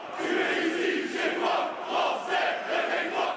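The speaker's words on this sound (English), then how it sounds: "They chanted slogans such as "French people wake up, you're at home here,"" A crowd of far-right protesters in France chants slogans in unison, a loud, sustained roar of many voices rising and falling in rhythmic waves, with no single speaker standing out.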